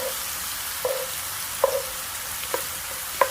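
Chicken breasts frying in melting butter in a pan, a soft, steady sizzle punctuated by four sharp pops or taps spaced about a second apart.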